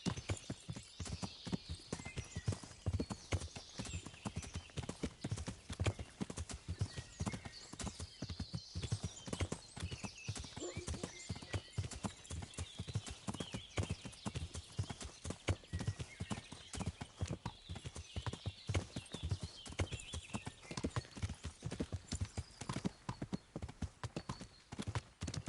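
Steady, rapid clip-clop of horse hooves runs throughout, rhythmic and close, with faint background ambience and no talking.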